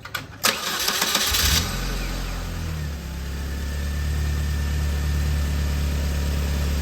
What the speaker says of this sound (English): I'm gonna let the car run for a couple minutes